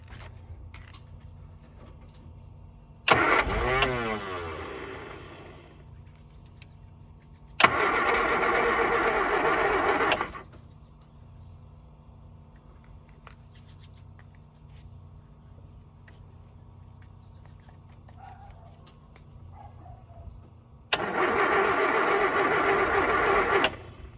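Scamp car engine with a faulty choke cranking in three bursts, each several seconds of fast whirring spin that stops without catching, separated by quiet gaps with faint background hum.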